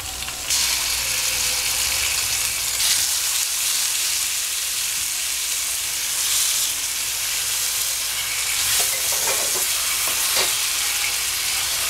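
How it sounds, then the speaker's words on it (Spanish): Skin-on chicken thighs sautéing in a pan with bay leaf, a loud, dense, steady sizzle close up that swells slightly as the pieces are turned, without any talking. "Lo sofreímos volteando constantemente hasta que cambie de color un poco en la carne del pollo"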